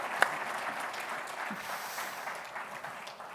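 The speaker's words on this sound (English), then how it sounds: "If you join me in a round of applause for our panel members." A conference audience applauds the panel members at the close of a late-afternoon session, producing a steady, moderate wash of clapping from a room full of people.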